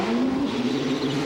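A 1994 CART IndyCar race car held at high revs on pit road at the Indianapolis 500, its engine whining in a loud, steady, continuous drone throughout.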